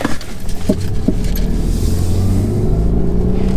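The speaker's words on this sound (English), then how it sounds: "Now I won't push the car too hard just yet." A 10th-generation Honda Civic Si with a Mishimoto intercooler drives gently while still warming up, its steady low engine drone and road rumble running continuously at moderate, even loudness with no talk.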